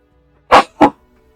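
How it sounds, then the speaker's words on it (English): Two quick, close sneezes in a row, loud and sharp against a quiet room, the second following about a quarter second after the first. "I was able to sneeze"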